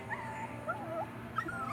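A puppy whimpers and yips in short, high, whiny bursts over a steady low background murmur, fairly close and moderately loud.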